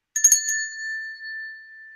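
A small hand bell, the kind carried to Burning Man, is struck a few times in quick succession, then its bright metallic tone rings out and slowly fades, loud and close with no talking.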